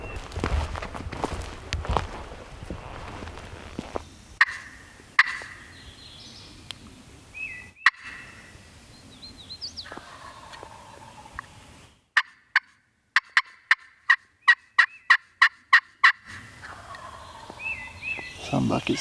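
Wild turkey gobbler in the Kentucky woods, heard in repeated distant gobbling bursts plus a fast run of close sharp clucks, with footsteps crunching through leaves and brush between calls.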